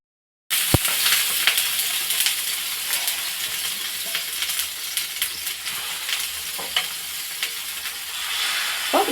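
Vegetable dosa batter sizzles on a hot pan, a loud, steady, close crackle that starts abruptly and continues with small pops and no talking.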